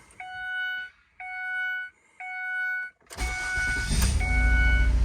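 A Ford Escape with new ignition coils and spark plugs starts up: three electronic warning chimes sound first, then the engine cranks and catches at close range, settling into a loud, steady run.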